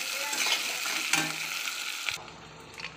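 Onions frying in a pan with bay leaf, cloves, cardamom and cinnamon for mutton kosha, a close steady sizzle with stirring scrapes that drops abruptly to quieter background near the end.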